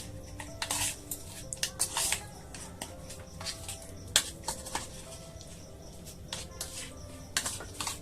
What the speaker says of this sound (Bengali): দেখতে পাচ্ছেন এটা ভালো করে মেখে নিচ্ছে